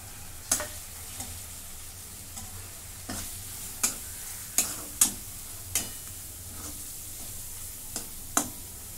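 Spices for an egg biryani roast in a pan, a faint continuous sizzle broken by about a dozen sharp, close scrapes and taps of a spoon stirring at an uneven pace.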